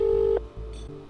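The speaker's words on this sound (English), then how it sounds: "I took my phone out and rang her mother's number." A telephone call placed to a mother's number gives a single steady ring tone that cuts off, followed by a faint click and quiet line noise.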